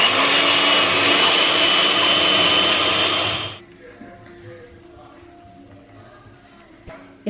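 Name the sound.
mixer whisking butter and Philadelphia cream cheese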